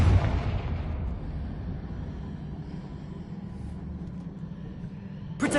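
Explosion from a Confringo spell in Hogwarts Legacy on PS5: a heavy boom opens and decays into a long low rumble, and a sharp burst sounds near the end.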